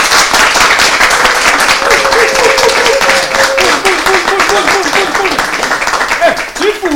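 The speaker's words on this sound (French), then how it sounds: "On peut applaudir très fort pour eux" Crowd applause for a traditional-modern music group at an outdoor gathering in Pointe-Noire, dense steady clapping throughout with a person singing or calling out over it, loud and close.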